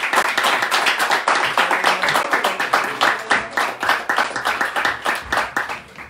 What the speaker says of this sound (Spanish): Un fuerte aplauso para Papín.